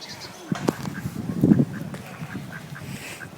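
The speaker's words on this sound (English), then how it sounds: "Ducks." Ducks quack a few times at a moderate distance at a holiday park, mixed with outdoor background noise and some nearby voices.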